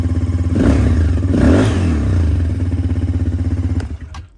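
A 200cc quad bike engine revs up twice close by, its rapid pulsing exhaust rising and falling before dropping away at the end, with no voices.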